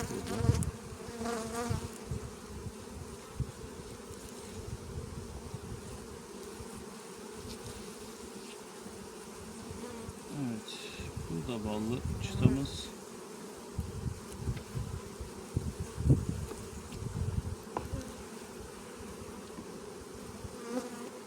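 Honey bees buzz densely around an open beehive holding honey, a steady close swarm hum with individual bees droning past the ear, with no talking.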